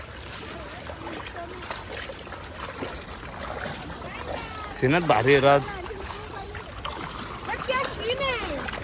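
Floodwater rushes through a swollen river beside farm fields after heavy rain, making a steady broadband roar throughout, while several people talk and exclaim over it nearby.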